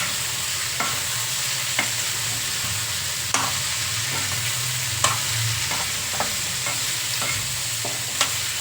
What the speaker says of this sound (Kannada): ಈಗ ಒಗ್ಗರಣೆಗೆ ಹಾಕ್ತೀನಿ. ಮಿಕ್ಸ್ ಮಾಡೋಣ ಫ್ರೆಂಡ್ಸ್.